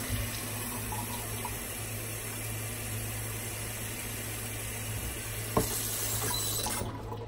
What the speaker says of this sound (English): Just gonna make sure to give this plant a proper watering.